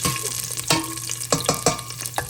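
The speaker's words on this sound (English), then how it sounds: "So here goes some green peppers. Just going to saute them a little bit." Green peppers sauteing in a pan, a steady low sizzle broken by several sharp stirring scrapes at close range, with no talking.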